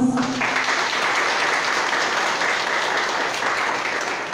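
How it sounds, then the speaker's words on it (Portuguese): Congregation applause inside a church during a solemn Mass for the feast of Nossa Senhora das Graças, a warm steady round of clapping from many people that carries on evenly for several seconds. "Eu quero saudar com uma salva de palmas,"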